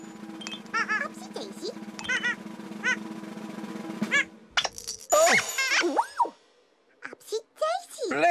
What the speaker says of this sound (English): What a big sneeze.